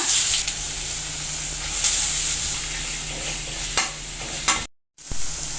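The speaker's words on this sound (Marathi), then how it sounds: "तेल आपलं गरम झालंय त्याच्यामध्ये मी घालते मिरची त्यानंतर घालायचा बारीक चिरलेला कांदा" Green chilies and finely chopped onion hit hot oil in a pan for a Malvani dry shrimp dish, giving a steady close sizzle and hiss with a few stirring scrapes, briefly cut to silence near the end.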